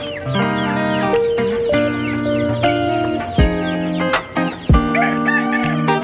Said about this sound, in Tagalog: ito mga sisiw natin